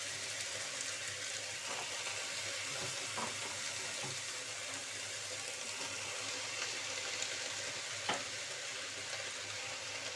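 Red amaranth greens tossed into a pan of frying onions produce a continuous low sizzle with occasional faint stirring taps, steady and moderately quiet throughout.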